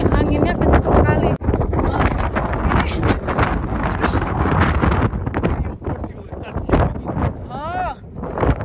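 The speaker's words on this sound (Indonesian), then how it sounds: "ini anginnya kenceng kali" Strong wind buffets the microphone on an exposed coast at Sagres, Portugal, a loud continuous roar with gusts throughout while people talk over it.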